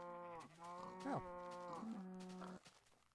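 Cows in a Minecraft-style video game moo several times in a row, clear drawn-out lowing calls with pitch slides, close and alone.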